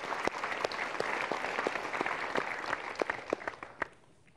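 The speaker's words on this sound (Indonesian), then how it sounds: "Kita berikan tepuk tangan untuk jawaban Anda." An audience at a motivational seminar applauds steadily, a dense patter of many hands clapping at moderate distance that thins out and fades over the last second.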